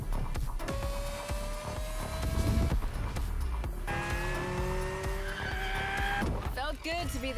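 Car driving in the racing video game The Crew Motorfest, engine tones holding steady with rising squeals of tires sliding through corners, continuous and fairly loud, with a voice talking over it.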